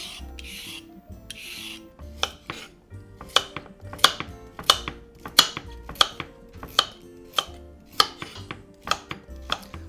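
A knife chopping carrots on a cutting board for a carrot cake, a run of sharp, evenly spaced, close chops with a clear rhythm, no talking.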